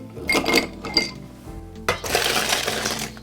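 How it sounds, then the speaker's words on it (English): Ice goes into a mixing glass for a Martinez cocktail, with bright clinks and clatters of cubes against glass, a short pause, then a denser rattle of tumbling ice. "We're gonna add some ice."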